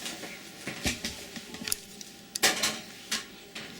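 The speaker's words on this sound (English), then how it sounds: "And I'm going to put this on the stove." A metal cooking pot is set down on a kitchen stove, giving a few light clinks and clatters, a sharper knock near the middle, and quieter taps around it, all close by and fairly soft.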